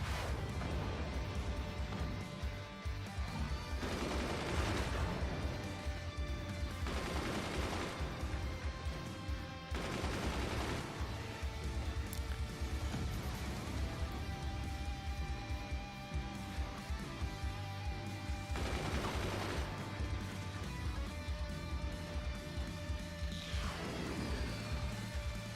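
Repeated cannon fire in the Forts artillery strategy game, heavy booms and crashes landing every few seconds over a dense, continuous bed of in-game music and battle noise, loud throughout.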